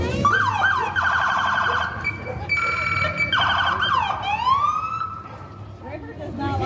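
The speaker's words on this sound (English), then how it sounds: "River does not like the sirens." Emergency sirens at a downtown Hannibal parade, loud and close, with wailing tones that sweep up and down in repeated cycles and layer over one another.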